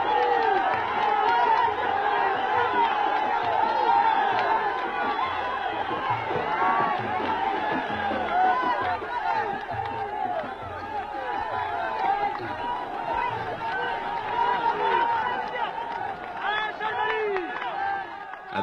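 A large crowd gathers in the desert at Tarfaya, a continuous dense babble of many voices with scattered shouts and cheers, steady and moderately loud throughout, under a narrator's voice.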